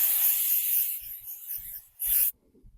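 Hissing bursts of an aerosol spray can, one long spray fading out, then a short final blast that cuts off abruptly.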